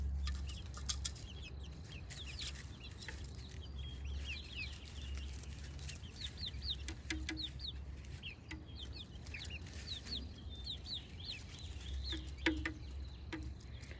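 Young chickens, chicks around four and seven weeks old, cluck and chirp softly in a steady murmur, with occasional higher peeps over a low background hum, no one speaking.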